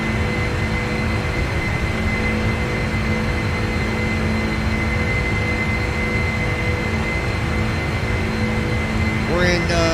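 Jet engines of a Boeing 747-8 in a flight simulator game, a steady loud roar with a constant hum throughout and a brief chirping blip near the end.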